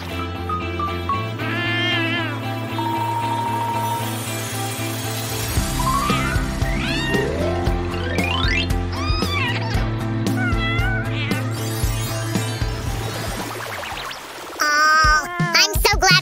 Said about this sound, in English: Aw, I'm so glad we're friends again, kitty!